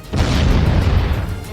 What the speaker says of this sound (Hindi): इजरायल की एयर स्ट्राइक के सामने आए एक वीडियो में गाजा शहर में एक जोरदार धमाका होता दिखा